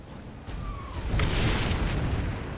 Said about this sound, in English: The 998 Godwin pattern bolter is the characteristic Space Marine battle rifle, firing self-propelled explosive tipped rounds.